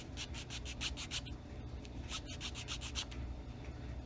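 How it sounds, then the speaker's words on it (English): A jeweler's file rasps along the edge of a plastic model spaceship part in quick, even back-and-forth strokes, close and steady for about four seconds with no talking. "just going to use our jeweler's file to make that a clean edge"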